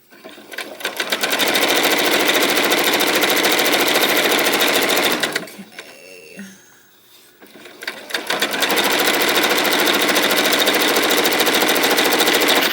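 A sewing machine runs steadily and loudly while stitching the final seam of a quilt block, stopping briefly midway before starting again, with no talking.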